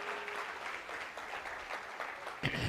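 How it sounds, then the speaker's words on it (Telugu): A church congregation clapping to praise the Lord, dense sustained applause from many hands at a moderate, slightly distant level, ending in a brief sharper knock. "గట్టిగా చప్పట్లు కొట్టి ప్రభువుని గణపరచుదాం"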